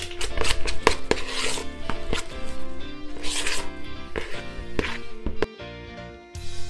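A chocolate protein ball mixture with cocoa powder is stirred in a bowl. Close, busy scraping and clacking from the utensil against the bowl continues for several seconds, with sharp knocks here and there and no talking.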